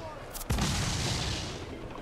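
A ship's cannon broadside fires in Assassin's Creed IV: one heavy, close boom with a long rolling, roaring decay that fills the rest of the clip.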